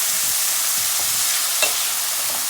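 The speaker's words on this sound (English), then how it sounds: "We're gonna mix our onions and those spices" Chopped onions sizzle loudly in a hot pan as they are stirred together with spices for a chicken and spinach curry, a dense and continuous frying hiss heard close up with a few soft scraping clicks.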